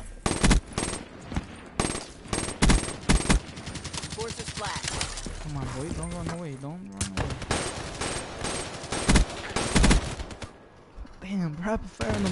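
Loud bursts of rapid video game gunfire crackle in quick succession, with fast shot rhythms broken by short gaps and game effects in between.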